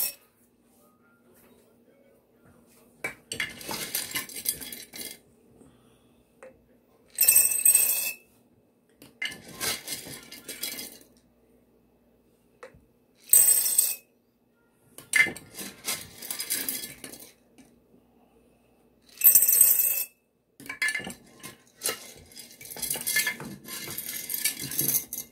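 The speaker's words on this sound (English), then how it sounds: "a quarter cup of dry pinto beans in the bottom of each jar" Dry pinto beans measured by the quarter cup into glass canning jars, heard as repeated loud rattling pours that hit the glass in separated bursts, with quieter handling clinks between them.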